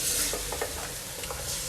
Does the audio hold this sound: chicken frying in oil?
yes